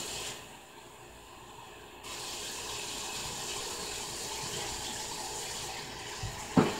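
Water poured into bowls for soup, a steady hissing stream that grows fuller partway through and runs continuously, ending with a small clunk.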